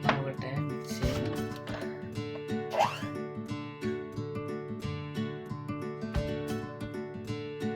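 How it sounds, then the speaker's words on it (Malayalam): Orange cake batter being stirred and mixed in a bowl, with soft repeated plops and thick wet slaps, fairly close and quiet, alone without talk. "നോക്കട്ടെ, മിക്സ് ചെയ്യണം."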